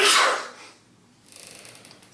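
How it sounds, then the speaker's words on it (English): A man sneezes once, loud and close, at the very start, followed by quiet breathing and faint rustling in a home where acrylic paint is being poured. "Excuse my husband for sneezing in the background."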